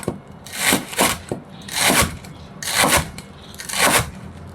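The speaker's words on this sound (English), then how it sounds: "Chop the garlic chives a little finer." Garlic chives are chopped with a knife on a board, four rhythmic bursts of rapid rasping, scraping cuts about a second apart, close and fairly loud with no talk.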